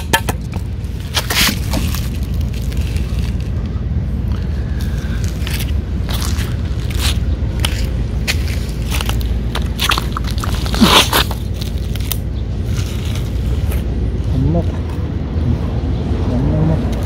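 Cats from a neighborhood street colony chew and crunch on food, with irregular crisp bites and scraping repeated over steady outdoor background noise, with occasional voices nearby.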